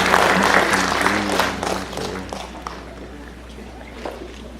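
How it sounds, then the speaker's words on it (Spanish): An audience at a conference applauds to welcome a speaker, loud clapping at the start mixed with a humming tone, gradually thinning and fading to scattered claps and room noise. "les pido por favor que la recibamos con fuerte voz de aplausos"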